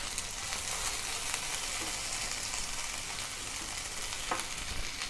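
Tomatoes and green chillies saute in a pan with a continuous, close sizzle and crackle, occasional stirring clicks and scrapes breaking through the steady frying.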